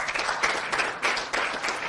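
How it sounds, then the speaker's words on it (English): Audience applause for the CEO of Imagica at a press conference for a Mumbai marathon's Run in Costume event, a dense steady wash of clapping close by with no voices over it. "Let's give him a round of applause."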